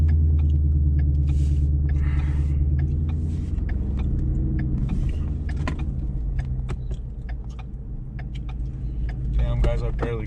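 A car reverses out of a snowy ditch, its engine rumbling low and steady up close, with a few clanks and a brief rev near the end; someone talks over it.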